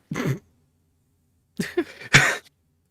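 A short cough, then a pause and two more harsh coughs in quick succession, close and fairly loud with silence between.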